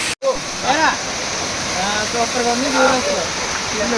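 Steady roar of the Rampa waterfalls fills the scene, with children's voices calling and chattering over the rushing water.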